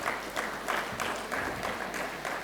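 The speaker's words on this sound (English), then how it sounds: "Give him a big clap." A small audience at a training program claps in a steady, rhythmic pattern, moderately close and fairly soft, with no talking over it.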